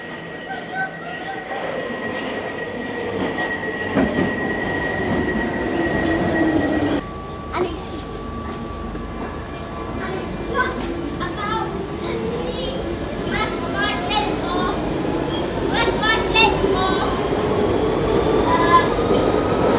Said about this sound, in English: This train is for Canary Wharf